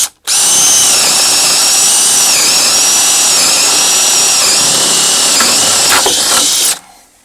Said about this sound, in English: and now the drill.